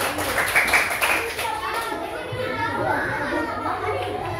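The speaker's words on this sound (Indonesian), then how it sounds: "Tepuk tangan untuk kelompok A" Children clap for their group in a classroom, a burst of small-handed clapping mixed with chatter and young voices, fading into talk and noise as it goes on.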